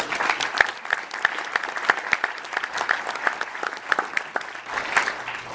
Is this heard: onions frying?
no